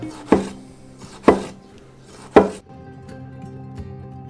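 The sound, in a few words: knife chopping tomato on board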